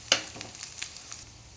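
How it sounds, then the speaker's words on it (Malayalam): Sizzling oil with a few distinct scraping stirs of a spoon as fried mustard and fenugreek seeds are mixed in for mango pickle, close by, crackling steadily underneath. "കടുകും ഉലുവയും കൂടെ വറുത്ത് വെച്ചേക്കുന്നതാണ് ഇതിലേക്ക് ഇട്ട് കൊടുക്കുക ഇളക്കാം"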